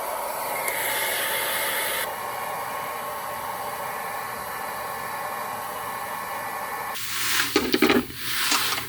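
A hair dryer blows inside a Step Wagon car, a loud steady close whoosh whose pitch shifts as the setting changes, followed by some rustling and handling noise near the end.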